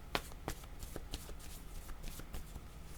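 A deck of cards is shuffled for a card reading. The riffles sound as a quick, close series of crisp flutters and soft slaps at a quiet, even level, with no talking.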